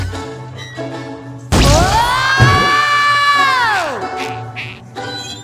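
A cartoonish flip of a cannon with a spatula in the video game SpongeBob Atlantis SquarePantis: a sudden thwack followed by a long rising-and-falling whooshing tone, with game music and ambient noise around it.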